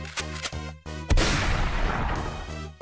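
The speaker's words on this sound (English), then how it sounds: "my team exposes itself terribly to a huge Turtonator explosion" A huge Turtonator explosion in the Pokémon Auto Chess video game: a sudden loud boom that rumbles on for over a second, preceded by short sharp game impacts over ongoing background music.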